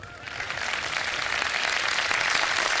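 Studio audience applause on a Ramadan iftar television show, a steady wash of clapping from many hands that builds slightly and holds at full strength throughout, with no voices over it.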